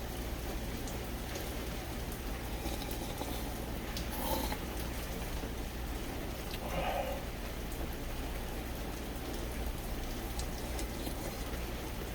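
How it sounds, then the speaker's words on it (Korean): Heavy typhoon rain pours steadily around a parked truck, a constant dense hiss of drops on surfaces with a low rumble underneath, alone and without talk. "비도 오는데."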